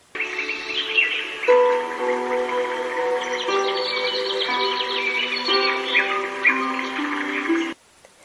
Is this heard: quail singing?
yes